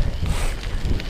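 Wind buffets the microphone as a bicycle rides along the Katy Trail near McKittrick, Missouri, a steady low rumbling roar that fills the short stretch without any voice.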